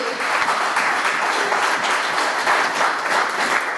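A church congregation gives steady, sustained applause, a dense wash of many hands clapping together without a break for several seconds, loud and close.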